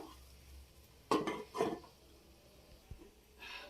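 Metal lid set onto a cooking pan of frying ponnaganti greens: two quick clattering knocks close together, then a single soft clink, with faint sizzling underneath.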